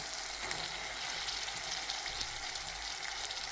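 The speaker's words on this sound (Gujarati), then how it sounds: "હવે આપણે આ તુવેર પાપડી એડ કરી દેવાની છે." Tuvar papdi pigeon pea pods tumble into a cooked spice masala in hot oil, setting off a steady, close, bright sizzle and crackle that runs throughout with no talking.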